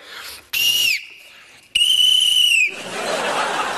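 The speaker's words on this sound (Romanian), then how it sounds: "Vai, șefa, dar ce frumos cântați la drâmbă!" A jew's harp twangs in a few bright, sustained tones in two separate bursts, close and fairly loud, then fades into a softer background hiss.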